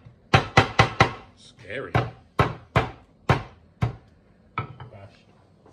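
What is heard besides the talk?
bashing lemongrass for a vegan curry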